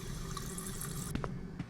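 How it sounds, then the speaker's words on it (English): Steady indoor running water from a tap in the video game Michigan: Report from Hell, a continuous faint splashing stream with a few brief clicks near the end and no voices. "We also don't have any water running, even though we can quite plainly hear it."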